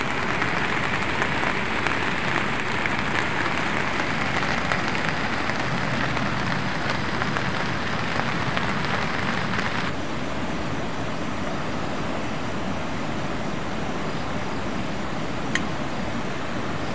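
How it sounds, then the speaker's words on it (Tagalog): Steady, heavy rain pours down continuously at night on a riverside trail in Rodriguez, Rizal, a dense hiss of drops hitting a surface with no voices. "Medyo malakas yung ulan."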